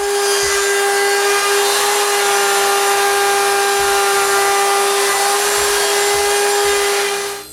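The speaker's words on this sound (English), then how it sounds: "route the chamfer around the inside corners" A power router cuts a chamfer around the inside corners of wooden night stand frames, giving a loud, steady high-pitched whine with faint bursts of cutting noise underneath, ending as the tool is lifted away.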